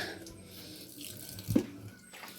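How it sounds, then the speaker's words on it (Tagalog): Tap water pours and splashes into a basin on a backyard farm, a faint steady trickle with one brief louder splash midway, no talk over it. "So ato lang na isulo diha ang tubig"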